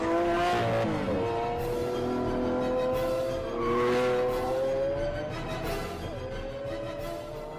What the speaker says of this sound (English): This 12-cylinder symphony has a full range.